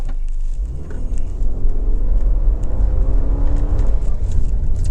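A 2025 Subaru Forester Touring accelerates over snow and dirt, its engine rumbling low and steady with a rising whir as revs climb, loud and continuous with no talking.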